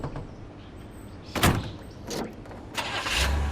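A car engine turns over in a Made Man video game cutscene. Several sharp thumps, like doors shutting, come first, then a low engine rumble rises and holds at the end, with no talk.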